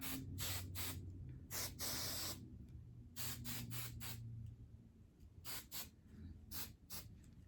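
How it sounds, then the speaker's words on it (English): Repeated short bursts of hairspray hiss up close, some quick puffs and one longer spray, with no talking. "So I'm just gonna spray."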